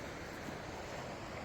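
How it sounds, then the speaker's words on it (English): A glacial river swollen by summer heat rushes past in British Columbia mountain country, a steady dense wash of flowing water close by with no breaks. "we have officially reached the river"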